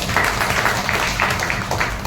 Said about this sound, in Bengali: দিদির জন্য হাততালি দিচ্ছে